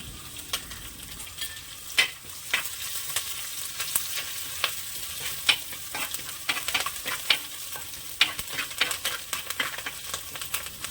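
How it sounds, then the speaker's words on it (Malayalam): Crushed ginger, garlic and curry leaves sizzle softly in a pan while a spoon stirs them, sharp scraping clicks and taps punctuating a low, quiet frying hiss. "കുറച്ച് കറിവേപ്പിലയും കൂടി ഇട്ട് അതും കൂടെ ഒന്ന് നല്ലപോലെ മൂപ്പിച്ചെടുക്കാം"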